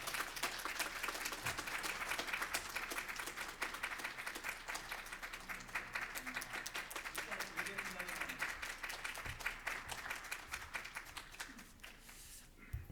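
A church congregation applauds together, sustained clapping from many hands filling the room steadily throughout, with some voices and room noise underneath.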